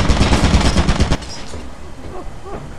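Rapid automatic turret fire in Lethal Company rattles out loud and close in a dense burst for about a second, then cuts off and leaves a quieter room tone with faint scattered clicks.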